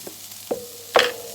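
Finely chopped onion hits a hot pan with three brief stirring scrapes, the last bursting into a louder sizzle that keeps frying steadily close by.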